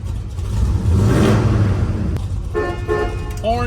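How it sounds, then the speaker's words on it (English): A 1967 Chevrolet Chevelle's horn gives a short, steady honk, then a quick second toot, over the rumble of its idling engine inside the car, and a voice speaks briefly near the end. "Horn functions."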